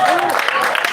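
Students in a lecture hall clap for themselves during a live lecture on red blood cells, a short burst of dense, close applause blended with voices and chatter.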